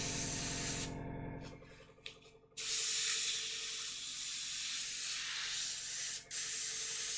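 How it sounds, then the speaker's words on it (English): A cheap airbrush sprays water through to clean out, giving a steady close hiss that cuts out briefly for a second or so, then resumes strongly, with a quick interruption near the end. "And we're back to just spraying through the water."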